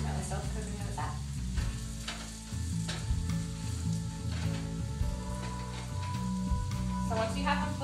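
Sweet potatoes fry in coconut oil on their second side, giving a soft, even crackling sizzle close by, dotted with pops and a few light pan clatters.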